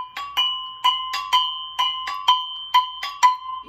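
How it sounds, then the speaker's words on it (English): Gogo bell, an African metal bell, struck in a quick melodic pattern of about a dozen bright, ringing strikes in pairs and runs, close and loud with no talking. "Gogo bell for the melody."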